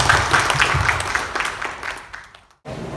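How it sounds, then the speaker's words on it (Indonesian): An audience at a Partai Demokrat Lampung regional party meeting breaks into broad applause, a dense wash of clapping that fades out and then cuts off briefly. "Tepuk tangan untuk semuanya."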